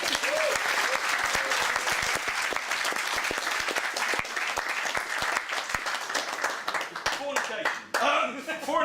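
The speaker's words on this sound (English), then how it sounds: "I think everyone deserves to give them a big round of applause for that" Wedding guests clap in a big round of applause during the best man's speech, loud and sustained with individual hand claps audible, tailing off near the end as voices come through.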